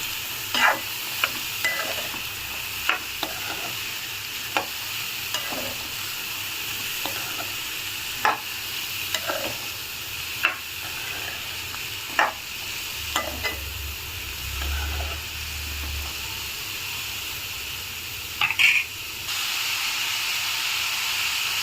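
Beetroot and onions frying in a pan, with a spatula stirring in repeated scrapes and clicks over a steady, close sizzling hiss that runs throughout without any speech.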